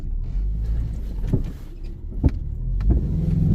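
Subaru car engine straining as it tries to reverse, a low steady rumble with a few short thumping knocks and squeaks, no talking.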